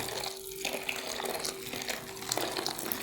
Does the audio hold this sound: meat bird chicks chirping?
no